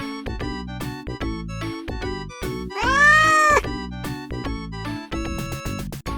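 A cat meows once, loud and drawn-out, in the middle of a busy stretch of other sharp, rhythmic sounds that run before and after it.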